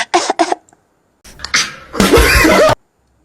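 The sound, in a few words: cough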